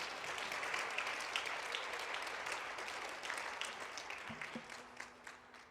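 Steady, dense applause from a graduation ceremony audience fills the hall, carrying on evenly with a soft tonal note near the end.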